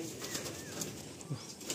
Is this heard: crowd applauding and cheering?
no